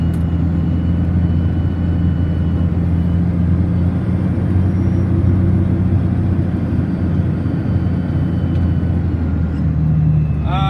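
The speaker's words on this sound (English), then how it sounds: "Where's that chopper? It's coming through." Helicopter flying overhead, a loud continuous low rotor-and-engine drone that holds steady throughout with no clear speech.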